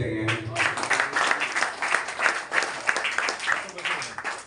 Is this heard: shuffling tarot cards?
no